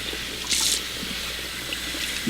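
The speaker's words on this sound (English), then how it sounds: "got my cold water running." Cold tap water runs into a sink while a wig is rinsed, making a steady close hiss and splash with a brief louder gush partway through.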